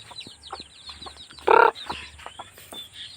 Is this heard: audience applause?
no